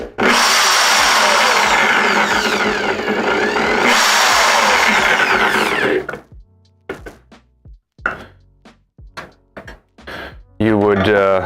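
A power drill whirs loudly and continuously for about six seconds while a Voron 3D printer is being built, then stops, leaving clicks, knocks and a person talking.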